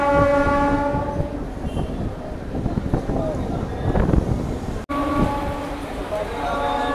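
A Howrah to Purulia local train rolls along with steady rumbling wheel noise and wind buffeting, while a long horn sounds at the start and again near the end, and voices talk over it.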